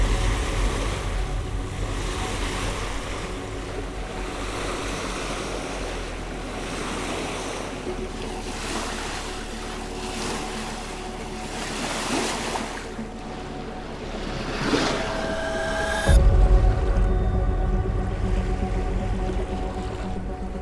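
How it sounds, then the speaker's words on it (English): Ocean swell off Cape Cook on Vancouver Island crashes against a small island's shore, a continuous rushing surf roar heard from a sailboat with wind buffeting the microphone, ending in a heavier low rumble. "I can see this swell crashing against this side of it"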